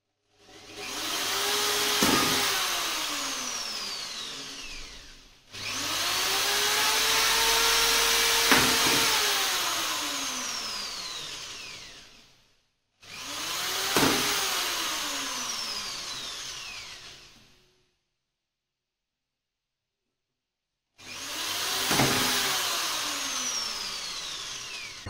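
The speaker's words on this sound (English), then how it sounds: "we drill them using an M3 bit for PCB standoff and an M5 bit for larger nuts and bolts" Drilling holes in a clear plastic sheet with M3 and M5 bits, heard as four long bursts of a loud whirring motor that rises and falls in pitch, separated by short pauses and one longer silent gap.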